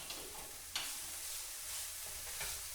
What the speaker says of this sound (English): We'll mix in the garlic and turn off the heat.